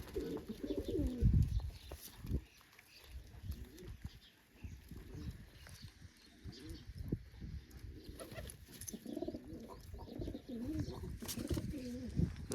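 Low, throaty pigeon cooing rolls on in repeated phrases, a louder burst early on, then steady softer calls among a few birds close by.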